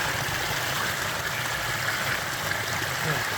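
Creek water pours into a canteen outdoors, a steady, close rushing and trickling wash that holds at an even level throughout, with no talking.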